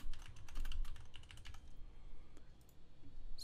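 Typing on a computer keyboard while entering school details, a quiet close patter of key clicks that is busiest early on and then thins out to a few scattered taps.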